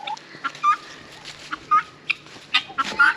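Chickens on a homestead cluck in short, bright bursts, several calls in quick irregular succession at close range, with no talking.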